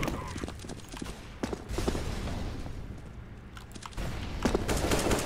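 Rapid gunfire in a Counter-Strike-style competitive shooter, bursts of sharp automatic shots in uneven clusters, close and loud over a busy game background.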